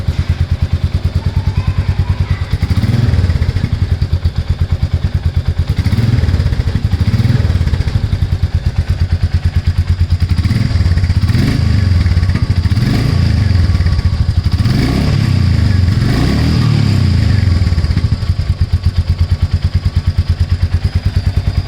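A Royal Enfield Meteor 350 motorcycle with a modified exhaust runs close and loud, a deep, bassy thumping idle with repeated swells of revving every few seconds and a steady mechanical clatter underneath, no talking.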